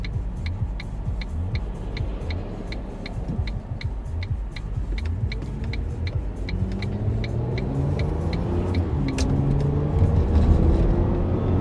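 A car drives along with a steady low road rumble that swells slightly toward the end, while a regular ticking, like a turn indicator, clicks through most of the ride. No one speaks.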